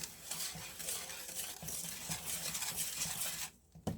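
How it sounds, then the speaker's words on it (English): A sugar mixture for a homemade chocolate pie is whisked in a bowl, making quiet, rapid rhythmic scraping and tapping strokes that continue steadily before stopping abruptly near the end. "Whisk that together, it said."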